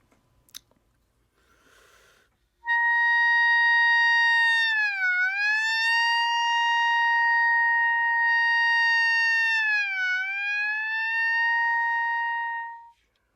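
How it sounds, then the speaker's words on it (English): A clarinet holding a sustained high C, loud and pure, bending the pitch down and back up in two smooth siren-like dips after a few faint clicks. "you need to know how to bend a pitch or do a glissando."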